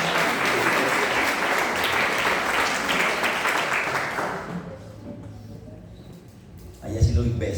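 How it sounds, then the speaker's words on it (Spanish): An audience at a Christmas celebration event applauds warmly for several seconds, the clapping gradually dying away into quiet before a voice speaks at the end. "Un aplauso para ella"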